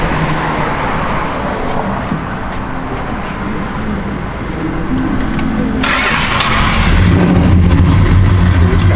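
A 1965 Plymouth Sport Fury engine with a lumpy cam runs loudly and continuously up close, its idle uneven and throbbing, rising a little in intensity toward the end.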